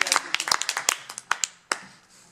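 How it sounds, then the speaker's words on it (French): A small audience in a classroom at a Philotechnique course gives brief scattered applause, a handful of sharp, uneven claps that thin out into a few last isolated claps. "Allez, on va les applaudir"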